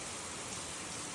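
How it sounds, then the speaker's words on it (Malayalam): Steady rain falls outside, a dense, even hiss with no breaks, low and fairly soft throughout. "മഴ ഉണ്ട് പുറത്ത്."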